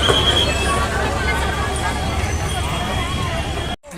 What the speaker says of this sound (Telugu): అదిగోండి రైలు బండి చిక్కు చిక్కు చిక్కు చిక్కు అనుకుంటూ పోతుంది